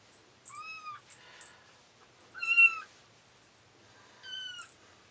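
A young kitten from a litter of six, separated from its mother, lets out three clear, high-pitched meows spaced about two seconds apart, with the middle cry loudest, against a quiet background.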